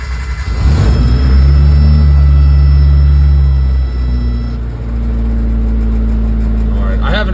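A Suzuki Samurai engine with the choke pulled cranks and catches after sitting a few days, then settles into a steady, loud idle, with a person talking over it.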